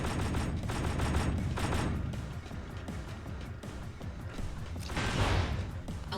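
Stored ammunition exploding in the video game Jak II: rapid, dense crackling bursts and heavy booms roll on continuously, loud and close, swelling again near the end.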